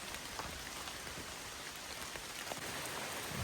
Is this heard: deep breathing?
no